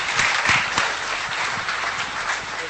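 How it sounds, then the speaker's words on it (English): An audience claps at a football awards ceremony in India, giving a loud, full roar of many hands that stays even throughout with no speech on top. "another hand of applause for Mohammad Rafi"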